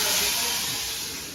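Spices for a muthiya dhokla tempering sizzle in hot oil, giving a loud, close, continuous hiss that fades slightly toward the end.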